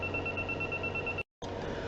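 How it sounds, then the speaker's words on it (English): A telephone rings steadily and loudly with a sustained electronic tone, cut by a brief silent gap before the ringing resumes, with no voices. "That was a phone call."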